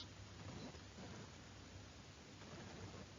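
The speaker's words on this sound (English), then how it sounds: "you have seen the rain come, and you've experienced the rain with you" Rainstorm with heavy rain pouring steadily and a low rumble of thunder rolling underneath, a constant broadband wash that stays even and unbroken, with no speech.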